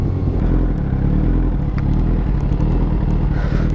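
A loud, steady motorcycle engine in a video game drones and revs continuously, with occasional clattering clicks over the roar.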